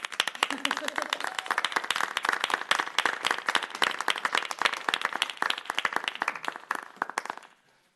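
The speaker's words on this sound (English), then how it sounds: "I'm going to clap for that." Applause fills a Ferndale city council meeting as many hands clap steadily and fairly loudly for about seven seconds, with voices mixed in, before the sound quickly dies away.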